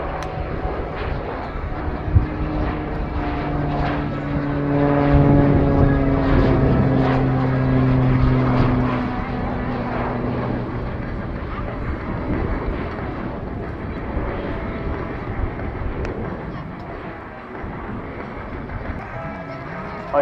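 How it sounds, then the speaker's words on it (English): A Hellenic Air Force F-16 Viper jet at an RIAT airshow accelerates toward show center, its loud engine roar swelling and shifting in pitch with a steady broadband rush throughout. "the aircraft accelerates at about 300 miles per hour, heading for the show center"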